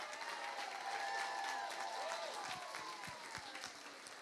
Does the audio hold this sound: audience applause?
yes